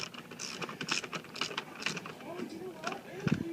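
Ratchet clicking with a deep socket while removing intake manifold bolts on a BMW E90/E39 engine, short rapid clicks in bursts close by, with someone talking over them.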